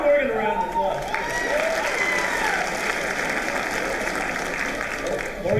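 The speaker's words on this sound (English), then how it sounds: "Give Morgan a round of applause" A school auditorium audience applauding a student named Morgan during a writers' week event, sustained clapping from a sizeable crowd throughout, with a speaker's voice carrying over it near the start.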